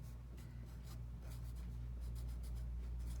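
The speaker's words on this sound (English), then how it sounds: "We'll write that here." A pen writing on a shape worksheet, with soft, steady scratching strokes in short bursts over a low background hum.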